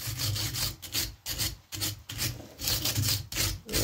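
A hand file rasps back and forth across a chainsaw chain's cutters in a steady run of about eight close, gritty strokes, each separated by a brief pause, with no talking.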